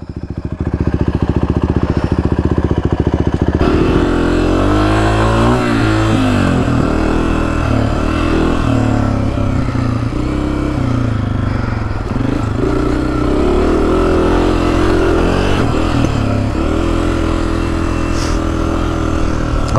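A 2024 Honda CRF250F dirt bike ridden through hot desert, its engine droning loud and close throughout, with the pitch rising and falling as the throttle opens and eases off.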